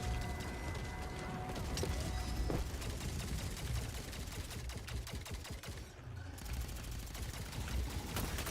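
Rapid, dense mechanical gunfire from an Orbital Gatling gun in a video game rattles continuously at a modest level, with whirring clicks and a few louder cracks mixed into the stream.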